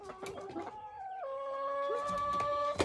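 Pet chickens cluck and murmur close by in short, sliding calls with a few sharp peeps, fairly quiet and alone.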